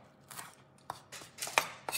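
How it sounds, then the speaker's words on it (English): Parsley being chopped with a knife on a board during home meal prep, about six crisp, separate knife strikes at an uneven pace, close and fairly loud, with no talking. "Just get the parsley chopped up"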